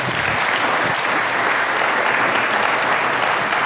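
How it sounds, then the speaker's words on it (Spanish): A church congregation applauding the Lord during a sermon, a loud, dense and continuous wash of clapping that holds steady throughout. "Sí, denle un aplauso al Señor."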